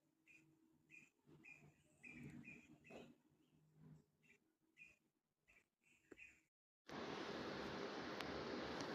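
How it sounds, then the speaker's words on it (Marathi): Faint, repeated whistled bird chirps come from a distance in a quiet outdoor setting in the Konkan, followed by a sudden loud rush of wind-like noise. "पक्ष्यांचा आवाज किती छान येतो आहे"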